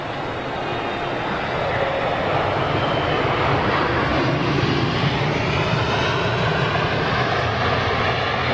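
A twin-engine airliner arriving on runway 27R at Heathrow Airport gives a loud, steady jet roar that swells slowly as it passes close overhead, with no talk.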